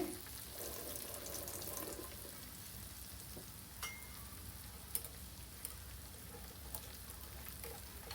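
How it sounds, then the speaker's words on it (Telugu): Sweet corn kernels frying in oil, a faint steady sizzle with a few light clicks and taps, quiet and continuous throughout with no voices. "ఇవన్నీ నూనెలో వేసి వేయించుకోవాలి"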